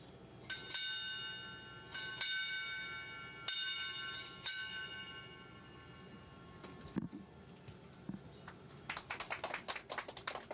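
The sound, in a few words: small naval bell ringing on the ISS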